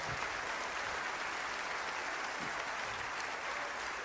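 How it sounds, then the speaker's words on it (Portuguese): A church congregation applauds at a men's conference, steady dense clapping filling the room without a break, loud and sustained throughout. "Aplauda ao Cristo de autoridade total"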